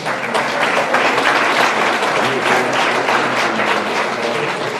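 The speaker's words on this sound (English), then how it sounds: "give yourselves a big round of applause" A community gathering claps together in sustained, close applause, a dense wash of hands that holds steady throughout with no voices on top.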